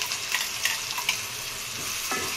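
Onion-tomato paste fries in oil for a fish curry, a dense close sizzle broken by a few sharp spoon scrapes against the pan.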